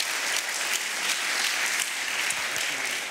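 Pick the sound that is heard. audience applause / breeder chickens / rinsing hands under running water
audience applause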